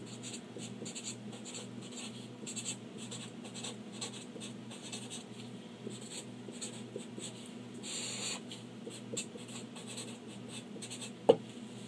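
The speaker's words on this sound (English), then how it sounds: "So I'm going to write that Mrs. Nelson should buy blank trays" A pen scratches steadily across paper as a sentence is written out by hand, a quiet continuous scribbling with small pauses and a faint low hum behind it.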